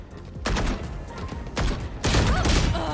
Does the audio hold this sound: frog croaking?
no